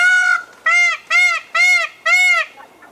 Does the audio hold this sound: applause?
no